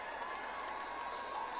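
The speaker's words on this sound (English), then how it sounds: "The Ugandans are cheering for their man who's overtaken the Tanzanian and got himself back up to 4th place" Crowd cheering and applauding for a Ugandan runner at the World Cross Country Championships mixed relay in Kampala, a steady, distant wash of roaring spectators without clear voices.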